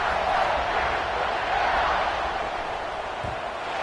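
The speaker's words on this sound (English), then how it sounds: "this crowd is buzzing after that last score" A football stadium crowd buzzing after a score, a broad, steady roar of many voices that holds level from start to finish, loud and enveloping.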